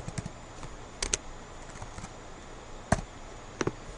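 Fingers tap a computer keyboard in short, irregular clusters of clicks, sparse and fairly quiet, with no voice over them.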